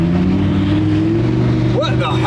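A supercar engine drones steadily with a low harmonic hum as the car climbs a hill off-road, with traction control active and a dead battery aboard, while a voice talks over it.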